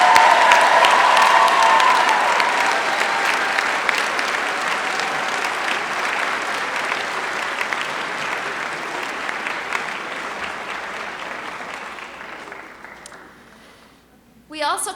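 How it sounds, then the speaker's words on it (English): Sustained applause from a commencement audience celebrating new PhD graduates of a university sociology department, loud and dense at first, then gradually thinning and fading over about thirteen seconds before a brief final burst. "Let's have a round of applause for all of our new"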